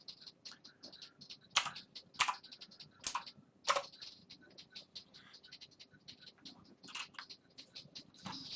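Quick, close-up typing on a computer keyboard during a Lego build session, with light irregular key clicks and several louder, sharper keystrokes.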